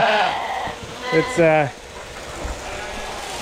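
A sheep bleats on shearing day, one wavering bleat over a quiet farm background, with someone speaking briefly at the start.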